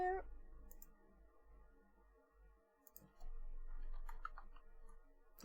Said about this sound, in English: I'm typing before it's there